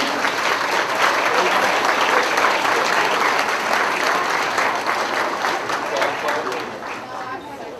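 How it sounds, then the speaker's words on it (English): Audience applause at a school academic awards ceremony for tenth and eleventh graders, sustained clapping from a full room that stays strong for most of the stretch before tapering slightly near the end. "if we could just have a round of applause for all our club connections"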